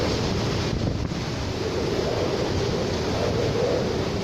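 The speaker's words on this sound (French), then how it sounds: "Je vous mets une vidéo du bruit du vent." Hurricane Irma's wind roars steadily before dawn, a loud continuous broadband rush with gusting swells and surf-like hiss buffeting the microphone throughout, no voices.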